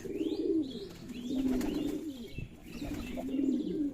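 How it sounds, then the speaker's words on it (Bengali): Pigeons coo in low, throaty rolling calls, several birds overlapping in a close, enclosed pigeon loft, with a few faint chirps and a brief flutter. "কবুতরের ঘর মানেই কবুতরের ডাক কবুতরের ডাকে মন জড়িয়ে আছে"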